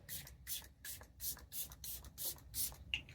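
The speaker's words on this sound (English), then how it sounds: "first spray serum, and I usually use it, especially this winter, to knock down that dry powdery look" A face serum spray mist is applied for makeup in a rapid series of soft, hissing pumps, about nine short bursts at a steady rhythm, close and quiet with no talking.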